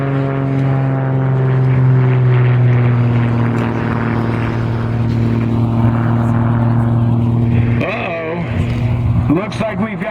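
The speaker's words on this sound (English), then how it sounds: "This airplane stood the aerobatics world on its ear" A WWII-era aerobatic propeller airplane flies at a World War II weekend air show, its loud steady engine drone carrying a strong harmonic whine that shifts in pitch near the end, with voices audible over it.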